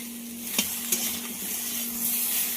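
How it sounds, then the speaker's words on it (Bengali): Tomato frying in a pan with papaya, potato and green banana, giving a soft continuous sizzle with a couple of quick stirring scrapes and a low steady hum underneath. "যতক্ষণ না টমেটো গলে ততক্ষণ একটু ভেজে নিতে হবে"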